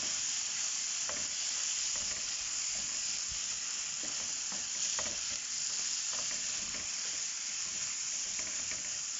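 Spaghetti with sardines and chopped condiments stirred and fried in a pan, giving a steady, close sizzle with scattered scraping clicks from the stirring, no voices.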